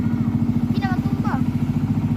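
A pump boat engine towing a fishing boat putters in a steady, rapid low chugging rhythm, close and continuous, while a voice speaks briefly over it.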